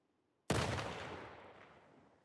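A single loud gunshot from the video game The Last of Us cracks sharply, then rings out in a long decaying echo.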